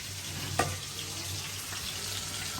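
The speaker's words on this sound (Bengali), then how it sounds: "মাছটা এখন ভাজবো।" Fish fries in hot oil in a pan with a steady, dense sizzle that stays even throughout, broken once by a brief sharper crackle, close and fairly loud.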